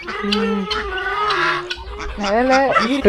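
Backyard chickens cluck at feeding time while given fish feed, with a steady stream of close, overlapping clucks and short calls from several birds.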